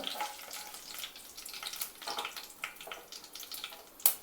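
Green chillies fry in oil in a pan for brinjal curry, a soft crackling sizzle with faint stirring, quiet and uneven, ending in a sharp click.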